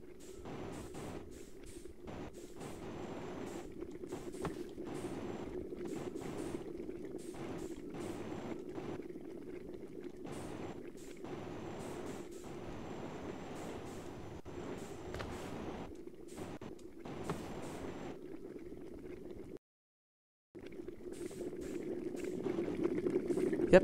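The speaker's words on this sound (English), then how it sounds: "Makes a bubbling noise." A bubbling, boiling-like sound from the crystal planet's core in the Outer Wilds game, steady and moderately loud across the clip with a brief dropout near the end, under faint game ambience.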